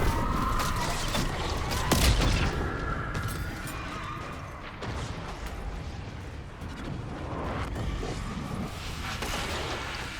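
Rapid gunfire shooting at the Entity boss's floating orbs in a video game, dense rolling bursts of shots and booming impacts layered over a constant rumbling game soundscape.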